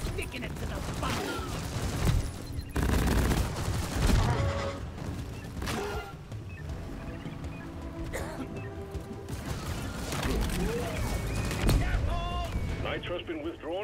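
A sentry gun in the co-op shooter Deep Rock Galactic fires repeated bursts of automatic gunfire amid explosions and chaotic combat effects. Continuous and loud, with voices speaking over the action.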